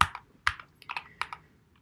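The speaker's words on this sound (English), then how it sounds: "We do that by typing dot values." Short bursts of typing on a computer keyboard, a handful of close, crisp key clicks arriving in quick irregular clusters with no talking.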